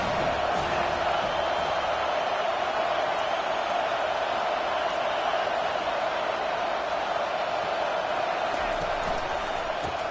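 A stadium crowd at an NCAA football game keeps up a loud, steady roar that presses on the offense, filling the entire stretch without pause.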